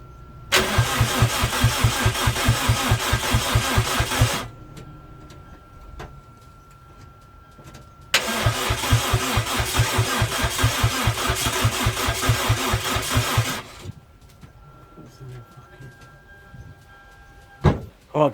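A turbocharged 1ZZ engine in a Toyota MR2 Roadster that fails to fire, cranking in two long, loud, rhythmic bursts with a quiet pause between them, then a few clunks near the end.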